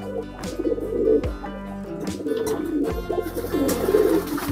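Racing pigeons of the merpati giring type coo in a steady, layered chorus close by, the soft throaty calls overlapping throughout without any talk.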